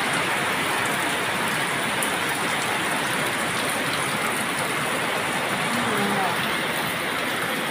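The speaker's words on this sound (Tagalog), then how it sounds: "Napakalakas ng ulan." Steady heavy typhoon rain drums on surfaces in a loud, dense hiss that never lets up, with faint indistinct sounds beneath the downpour.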